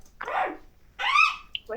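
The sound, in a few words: small dog barking in a video game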